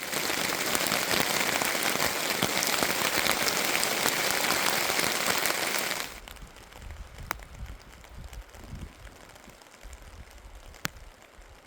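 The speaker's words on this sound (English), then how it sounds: "it's actually just started hailstones" Hailstones drum on a OneTigris Iron Wall tent during wild camping: a dense, loud, continuous patter for about six seconds, then it thins to a faint, sparse tapping with a few sharper single hits.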